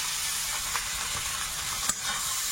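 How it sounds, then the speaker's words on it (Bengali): Prawns from the river fry lightly in hot oil with chopped onion, garlic, turmeric and salt, giving a steady close sizzling hiss with a few faint pops. "চিংড়িটা কিন্তু খুব বেশি ভাজবো না, হালকা করে ভাজবো।"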